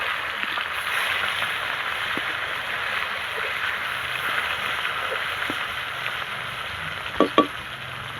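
Rohu fish sizzles in mustard oil in a pan after being turned, a soft steady hiss with small crackles and a couple of light utensil taps toward the end.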